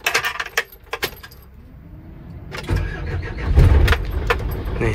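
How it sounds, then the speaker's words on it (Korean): A Hyundai County camper van's engine starts after a few jangles and clicks of keys, then settles into a low, steady idle rumble heard from inside the vehicle. "기본적으로 일단 카운티 시동 소리를 들려드릴게요."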